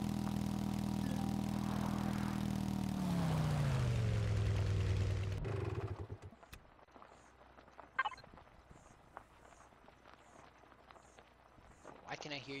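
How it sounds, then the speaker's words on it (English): Motorcycle engine in the video game Empyrion, a loud steady drone with shifting pitch for about six seconds, then cutting out to quieter game sounds and faint clicks. "You can hear my motorcycle from the other side of the planet?"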